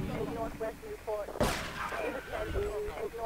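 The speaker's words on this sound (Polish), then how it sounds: "Nie, ktoś do mnie strzela." A single sharp gunshot in GTA 3 rings out mid-clip, fairly faint, while someone talks over the game's background noise before and after it.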